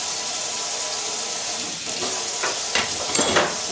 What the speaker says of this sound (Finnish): Mä tiskailen täällä ja hoidan hommat himaan